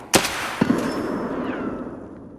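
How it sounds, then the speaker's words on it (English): Grenade blasts in a first-person shooter video game: a sharp, loud explosion followed by a second blast about half a second later, then a long rumbling decay fading over two seconds. "I'm chucking a grenade"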